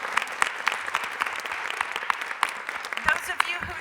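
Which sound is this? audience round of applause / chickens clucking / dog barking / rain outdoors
audience round of applause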